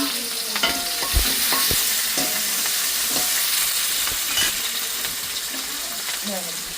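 Onions sizzling and frying in a pan with scraping stirring clatter and occasional metallic clinks, steady and close, no talking.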